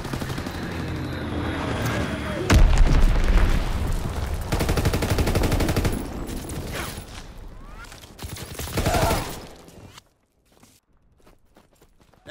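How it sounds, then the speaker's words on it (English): Bombing run in Call of Duty: WWII multiplayer, a heavy blast near the start followed by sustained rumbling explosions and crackling gunfire for several seconds, then a sudden drop to near quiet. "Enemy bomb incoming. Get to cover."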